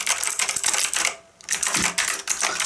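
Rapid clicky typing on a One-Up mechanical keyboard with Cherry MX Blue switches on every key, a dense run of loud, close keystrokes that stops for a brief pause and then resumes.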